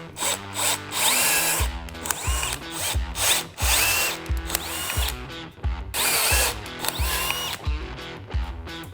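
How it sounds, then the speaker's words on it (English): A power drill with a 5/16 bit drills out mounting holes in a Harley Tour-Pak speaker pod enclosure, loud and close, the motor whining and bogging repeatedly as the bit bites and releases, with no voice. "here I'm using a 5/16 drill bit to drill out these mounting holes"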